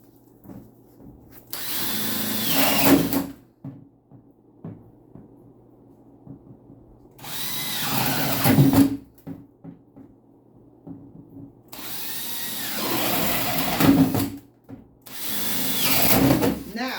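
A power drill bores a row of air holes in a container, four separate whining bursts of a few seconds each, close and fairly loud, with quiet pauses in between.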